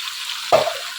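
Marinated mutton dropped into a hot wok: a continuous high hiss of oil, then a sudden loud burst of sizzling as the meat hits the pan, settling back into frying.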